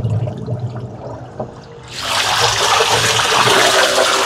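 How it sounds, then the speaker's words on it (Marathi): A portable battery sprayer machine runs as it is dipped into water, bringing a sudden loud burst of splashing and churning water that starts about halfway through and continues steadily after a quieter stretch. "अजून एकदा पाण्यामध्ये बुडवून दाखवतो."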